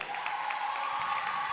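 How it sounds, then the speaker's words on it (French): Brief, fairly faint clapping from a church congregation at a closing Mass for the Missionary Childhood, applauding the Grand Bassam pastoral sector, with a steady tone beneath the crowd's hands. "on applaudit pour eux."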